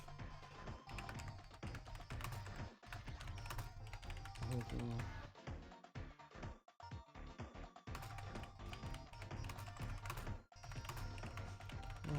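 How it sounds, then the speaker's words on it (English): Fingers type on a computer keyboard in irregular bursts of close, light clicking and tapping, with a voice and background sound underneath and brief pauses between runs of keystrokes. "I'm just gonna type in stuff."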